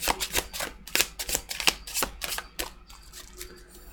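Tarot cards are shuffled close to the microphone in a quick series of sharp riffling snaps and taps that thin out and soften toward the end.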